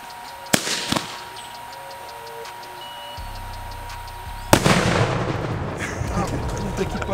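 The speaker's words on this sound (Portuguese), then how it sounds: "Finalizar esse vídeo com chave de ouro agora, uma explosão digna." A sharp gunshot-like crack rings out, then a louder blast as a 7.62 rifle round explodes inside a watermelon, bursting with a lingering rush of debris and noise; a couple of smaller pops come earlier.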